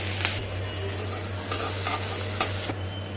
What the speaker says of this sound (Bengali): মাছ ভাজা অবশিষ্ট তেলে দিয়ে দিচ্ছি পেঁয়াজ কুচি